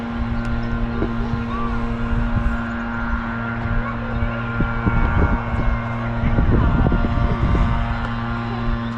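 A weed eater (string trimmer) runs steadily outdoors in gusty wind, its engine drone loud and continuous with buffeting wind noise across the mic for the whole stretch.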